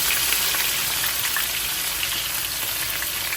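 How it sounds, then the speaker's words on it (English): Steady, loud sizzling of scallions, pepper, and garlic and ginger paste frying in a hot pan, a continuous crackling hiss with no voices. "Hear that sizzle."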